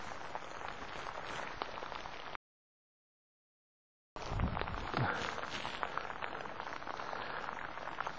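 Outdoor rain falls in a steady, dense patter that cuts out briefly partway through and then resumes, with a few louder splashes and no talking.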